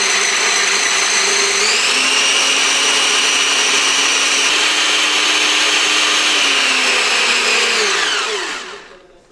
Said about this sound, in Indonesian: Nah, ini sudah selesai kita giling.